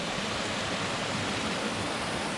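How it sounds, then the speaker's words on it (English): Continuous, even rush of a creek flowing down through a tiny canyon it has carved along a mountain trail on Squak Mountain, close and steady with no pauses. "This creek has eaten well down into that,"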